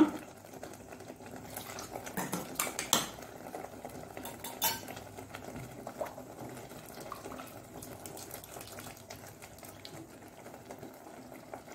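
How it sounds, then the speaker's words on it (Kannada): A pot of methi and shallot gravy, a Mangalore-style saaru, is stirred after water is added, giving faint clinks and scrapes of a spoon against the pot over a quiet background, with a brief louder splash-like burst early on. "ಸ್ವಲ್ಪ ನೀರನ್ನು ಹಾಕೋಣ."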